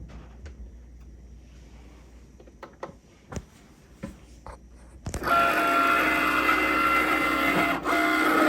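A craft cutting machine cuts holes in a notebook cover, first a few soft clicks and taps, then a steady loud mechanical whir and buzz that runs continuously close to the microphone.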